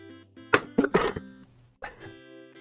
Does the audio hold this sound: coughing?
yes